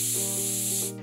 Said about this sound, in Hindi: अब 3 विसल के बाद कुकर में से स्टीम निकाल देंगे